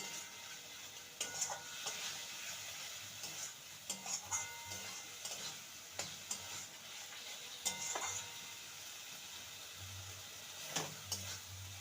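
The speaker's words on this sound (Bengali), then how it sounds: "এবার ভেজে রাখা আলুর টুকরো দিয়ে দেবো আলু দিয়ে আবারও নেড়ে নিয়ে ভালো মতন কষিয়ে নিতে হবে" Fried potato pieces are stirred through a spice masala in a pan, with repeated scraping strokes of a spoon and a steady low sizzle running underneath, heard fairly close and without talk.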